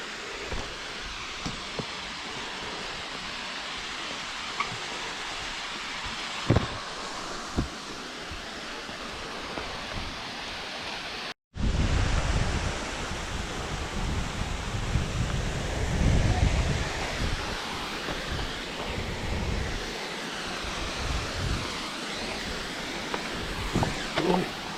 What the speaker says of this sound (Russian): Первый водопад.